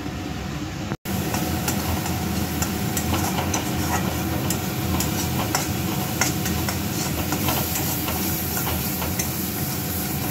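Fish curry masala stirred and sautéed in a pan, a steady bed of sizzling hiss with frequent light scraping clicks from a utensil, continuous and close with no talk.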